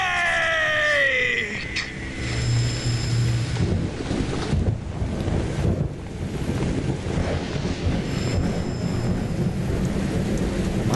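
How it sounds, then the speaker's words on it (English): Heavy thunder rolls and steady rain-like rushing noise from a storm in the Metal Gear Solid 3 game, with a descending whistle-like tone at the start, loud and continuous without any talking. "Who's afraid of a little thunder?"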